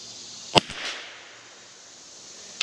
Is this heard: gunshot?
yes